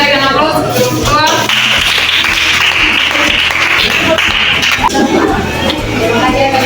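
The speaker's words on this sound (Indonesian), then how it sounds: "Oke, kita berikan aplaus." A classroom audience claps after a student presentation, producing a loud, dense, continuous patter of many hands that fills the space, with voices mixed in at the start and end.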